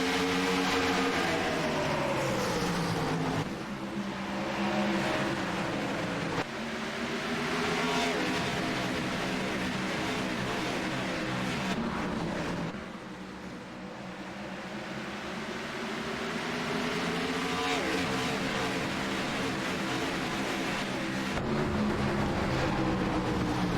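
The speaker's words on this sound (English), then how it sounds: "Keegan Leahy to the restart." NASCAR-style race cars in the iRacing simulation at Richmond roar and rev in a tight pack, engines rising and falling in repeated loud sweeps as the field heads to a restart.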